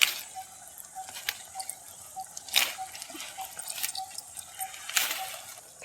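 Tap water runs close by while leaves are washed under it for a chicken popti dish. The steady flow is broken by several sharper splashing bursts, and no voices are heard.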